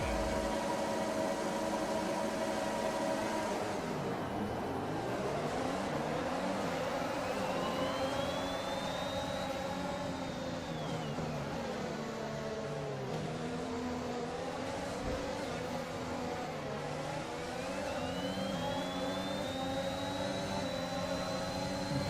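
F1 2021 race cars launch at the start of the Brazilian Grand Prix, a dense roar of high-revving engines with rising and falling whines as the pack accelerates, loud and continuous.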